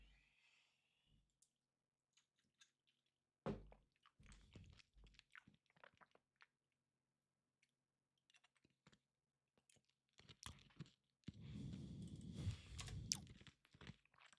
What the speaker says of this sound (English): my bad if I'm chewing too loud on the mic